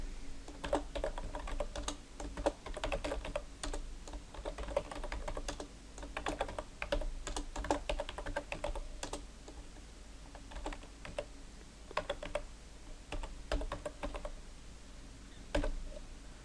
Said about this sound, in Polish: Tu wpisujemy nową listę. Po każdym elemencie wciskając Enter.